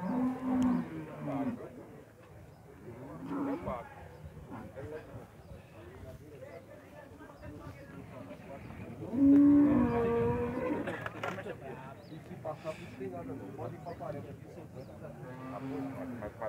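Cattle moo at a livestock fair in Puxinanã, Paraíba, Brazil, a few low calls rising from a busy, noisy background while people talk nearby throughout.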